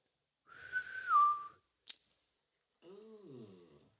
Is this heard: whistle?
yes